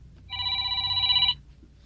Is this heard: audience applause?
no